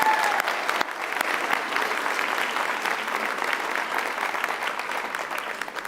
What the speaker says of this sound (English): So a big round of applause to Melissa and her team.